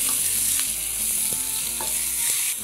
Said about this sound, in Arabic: اروح حاطه عندي الطماطم متقطعه مكعبات وبرده اقلب